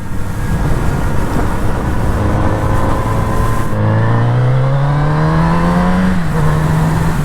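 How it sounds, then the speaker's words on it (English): A Kawasaki Z900RS motorcycle engine revs loud and close on a windy country road, holding a steady drone and then climbing in pitch as it accelerates through a gear, with no talk. "Certainly sounds good, this bike, no doubt about that."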